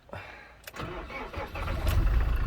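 A 2011 Iveco Daily campervan's engine cranks and starts, the turnover rising into a steady, loud idle rumble close by.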